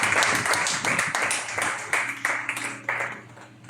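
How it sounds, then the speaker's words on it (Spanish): A church congregation breaks into lively applause at a Sunday morning service, brisk and fairly close, gradually thinning and tapering off toward the end. "con un aplauso para el Rey de Gloria en esta mañana"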